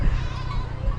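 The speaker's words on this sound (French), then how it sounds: "On tombe souvent sous des troupeaux de chèvres, brebis." Goats and sheep bleating in a herd outdoors, one nasal wavering bleat filling a brief moment, fairly close and loud, with no talking.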